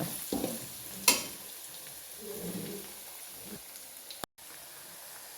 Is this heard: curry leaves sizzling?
yes